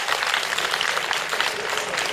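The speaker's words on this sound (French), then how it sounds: "Applaudissez pour la fondation, s'il vous plaît." Dense, steady applause from a school audience at a ceremony handing over sanitation equipment to a secondary school, a continuous wash of many hands clapping at close range with no talk.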